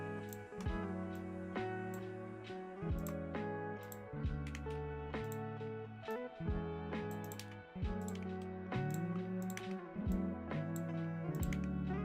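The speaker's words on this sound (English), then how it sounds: "You get to hear the keyboard ASMR to some extent." Computer keyboard typing during a lo-fi work stream: steady clusters of clicky keystrokes with brief pauses, close and clear over soft lo-fi music playing throughout.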